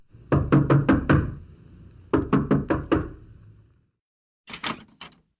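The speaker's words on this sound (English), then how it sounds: "Eliza went to the house and knocked on the door." Knuckles rap on a door in three quick bursts: a run of five knocks, another run of five, then a fainter final cluster after a pause, crisp and close with no talking.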